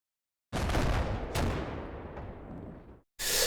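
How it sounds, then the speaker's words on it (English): In Combat Mission Black Sea, gunfire is poured into a stretch of woods: a dense, loud burst of rapid shots and booming blasts that trails away, stops briefly, then resumes sharply. "I think I'm just going to open fire into these woods"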